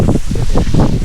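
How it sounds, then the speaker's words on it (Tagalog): Strong wind blows on a trek to Mount Pinatubo, roaring close into the microphone in loud, continuous gusts. "Lakas ng hangin."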